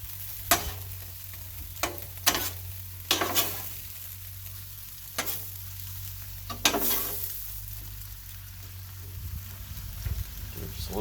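Sloppy joe meat and onion scraped and mixed on a 22-inch Blackstone griddle outdoors in wind, with a steady low sizzle and a hum beneath several sharp, separate spatula scrapes and clacks.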